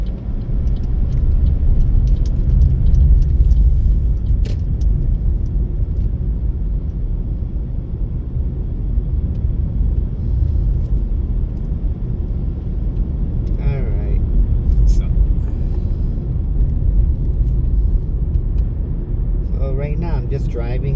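A car cruising along the Sand Island access road in Honolulu, Oahu, with a steady loud low road and engine rumble heard from inside the cabin and a few faint higher tones near the end.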